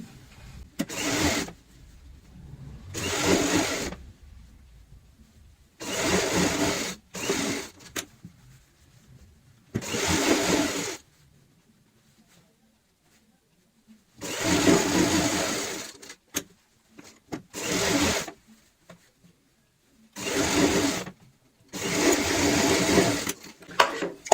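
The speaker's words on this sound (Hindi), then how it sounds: "सेम इसी तरीके से इस साइड भी सिलाई के ऊपर सिलाई लगाएंगे" A sewing machine stitching a cushion cover runs in several loud, close bursts of rapid whirring, each a second or a few seconds long, separated by quiet pauses.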